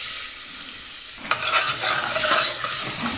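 Onion hits hot olive oil with bay leaf and a cinnamon stick, bursting into a loud sizzle after a quieter start, then settling into a steady frying crackle with a few stirring knocks, no voices.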